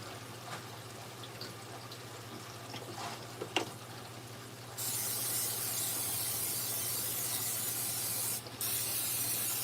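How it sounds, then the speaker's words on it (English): A steady hissing spray of floor cleaner starts partway through and runs continuously, close by, after a few faint rubbing sounds over a low hum. "Okay, let's spray."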